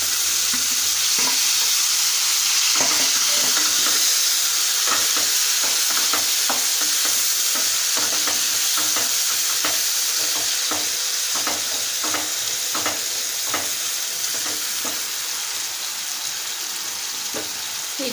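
Tomatoes sizzle and fry steadily in a hot pan while a spoon stirs them, giving repeated scraping clicks over the continuous hiss; no talking.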